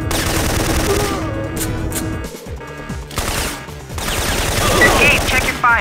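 Gunfire in the 1999 PS1 video game Syphon Filter comes as loud, rapid bursts over a busy game soundscape, with brief pauses between volleys.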